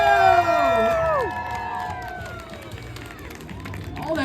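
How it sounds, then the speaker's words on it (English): A crowd at the Derby Dog Showdown at Cedar Point cheers and whoops for the newly crowned Derby Dog champion, loud at first with rising and falling voices, then easing into a steadier background roar. "All that cheering sounds like it's time for a picture."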